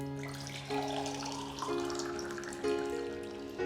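Water pours into a glass, its gurgling tone stepping up in pitch as the glass fills, close and steady with no talking.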